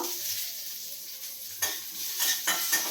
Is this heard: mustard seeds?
yes